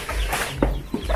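A few short chicken clucks sound close by over low background rumble, with no talking.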